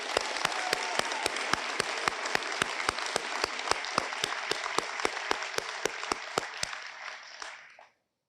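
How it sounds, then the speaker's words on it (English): A graduation crowd at the Marine Institute gives a round of applause, steady dense clapping with regular sharp accents from one nearby clapper, fading out at the end. "So a round of applause for them again."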